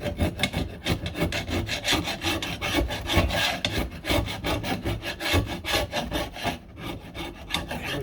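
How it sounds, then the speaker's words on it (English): A flat blade screwdriver scrapes gunk from inside the door of a 1969 Corvette, a close, rapid rhythmic rasping of metal on residue that runs without pause. "I'm gonna use a screwdriver because I don't think I got any other type of scraper or anything to get down in there. Just a flat blade screwdriver."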